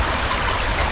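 River water running fast and shallow over a riffle in a narrowed, channelized stretch beneath a road crossing, a steady close broadband rush with no pauses or voices.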